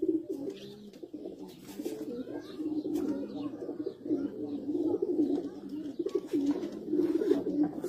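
Chinese flying pigeons coo in soft, repeated throaty rolls, close and continuous, with faint chirps and rustling around them.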